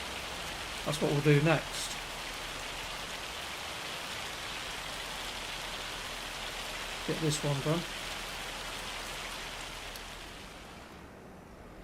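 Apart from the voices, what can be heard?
rain in a video game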